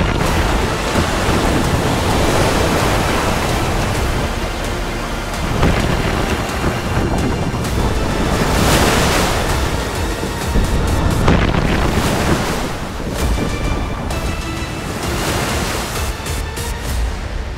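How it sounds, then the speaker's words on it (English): Rough sea slams around a rescue boat being tested in storm conditions: a dense, roaring wash of waves and heavy wind buffeting, with surges of crashing water swelling and fading throughout. "so they have to be tested in rough sea conditions."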